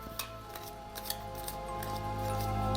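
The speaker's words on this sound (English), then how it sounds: "So I'll shuffle this deck." Tarokka cards for a Curse of Strahd tabletop reading are shuffled by hand, giving a series of soft, crisp card snaps and flicks at a moderate pace, close by, over a low steady background hum.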